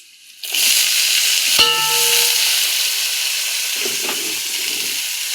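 Washed broad beans drop into hot oil with fried onions, setting off a loud sudden burst of hissing sizzle with a clink, then a steady strong sizzle that continues to the end.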